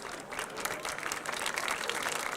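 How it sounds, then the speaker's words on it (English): A crowd at a rocket launch event breaks into steady, sustained applause heard at a middle distance, with many hands clapping together and no talk. "They are clapping because we extended the time window."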